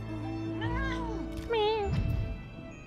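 Two drawn-out, bending meows from the fat cat mount in the online game Final Fantasy XIV, played close and clear over a low game background, followed by a short burst of softer chatter.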